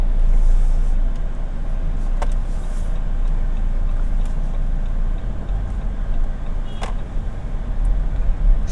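A 2021 Jeep Compass 2.0-litre diesel automatic SUV on the move, a steady low road and engine hum with tyre noise inside the cabin, no talking.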